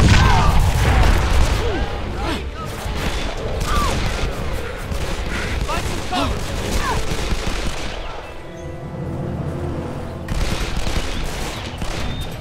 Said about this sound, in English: Watch out! Watch out! Grenade!